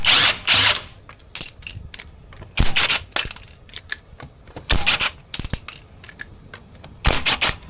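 A ratchet wrench loosens bolts on the lower control arm of a Perodua Myvi, sounding as close, loud bursts of rapid metallic clicking separated by short pauses and quieter clinks, with no speech.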